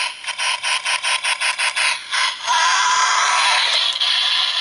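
A Power Rangers Samurai Bullzooka toy gives a basic firing noise, a fast series of ratcheting clicks followed by a sustained hissing, electronic blast sound, close and alone.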